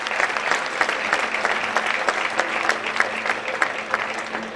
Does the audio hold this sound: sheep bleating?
no